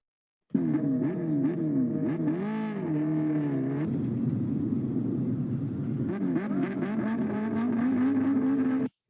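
A four-cylinder superbike engine revs up and down in quick, rising and falling bursts, loud and close, its pitch swinging repeatedly before settling into a steady high whine.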